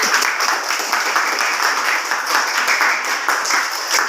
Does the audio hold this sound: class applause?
yes